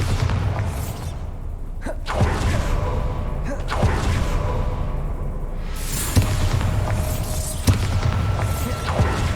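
Repeated booming spell blasts and whooshing magic effects from the Bombarda explosion in Hogwarts Legacy, dense and continuous, with game combat noise throughout.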